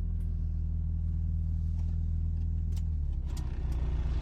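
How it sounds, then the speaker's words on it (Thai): A cheap used car's engine idles with a low, steady rumble, quiet even after starting, a faint jingle of keys nearby, and the pitch shifts slightly near the end. "ครับมาลองสตาร์ท เงียบนะคันนี้นะสตาร์ทแล้วก็ยังเงียบอยู่นะครับ"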